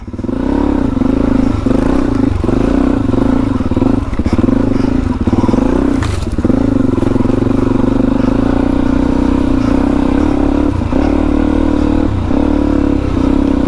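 A Suzuki DRZ 400e dirt bike rides off along a bush trail, its engine a loud, steady, close drone that holds throughout, with a brief clattering knock partway through.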